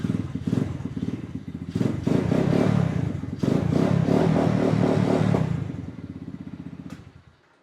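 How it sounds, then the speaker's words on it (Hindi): A 110cc quad bike engine cranks to life and runs with a steady, chugging putter, its loudness swelling around the middle before easing off near the end and cutting out. "बाकी जो है इस बाइक की साउंड है वो भी स्टार्ट करके आपको सुना देते हैं।"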